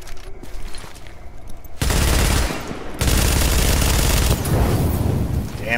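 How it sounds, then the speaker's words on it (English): Buckshot gunfire in a video game, heard as a quiet scattering of small pops that gives way to a long, dense, loud barrage of rapid shots. The roar eases briefly, then resumes and keeps going to the end. "Oh, it's buckshot."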